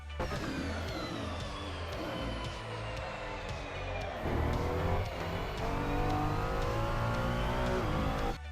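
Ferrari 296 GT3 race car in Assetto Corsa accelerating hard out of a corner at Spa Francorchamps, engine note rising steadily, dipping briefly at a short upshift into second, then climbing again, loud and continuous.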